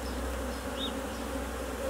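Honey bees drone in a steady, close, continuous buzz during a hive inspection, with no voices over it.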